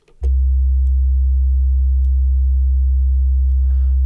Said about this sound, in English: So the first tone is sub bass tone.